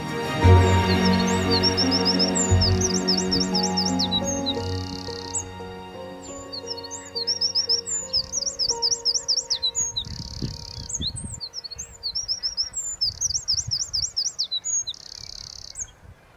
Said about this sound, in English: as I was walking along this path, I heard a wren and I've spotted it in this bush.